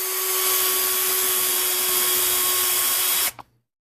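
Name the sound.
drilling a hole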